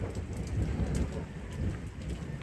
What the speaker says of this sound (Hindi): तेज़ गड़गड़ाहट के साथ ही पीछे की तरफ अच्छी बारिश हो रही है।